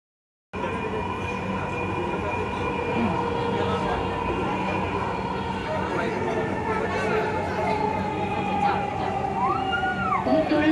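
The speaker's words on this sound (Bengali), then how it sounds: "মেট্রো যখন চলতে শুরু করে" A metro train in motion, heard from inside the carriage as a constant, loud rumble and rail roar with rising and falling whines and brief wheel squeals, under people talking.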